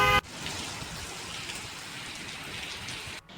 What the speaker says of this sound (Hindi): जोधपुर में भी तेज हवाओं के साथ बारिश हुई है